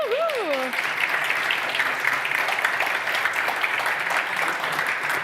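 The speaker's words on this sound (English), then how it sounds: "Big applause." Applause at the opening day of an education technology hackathon, dense steady clapping from a crowd, with a brief whoop-like vocal at the start.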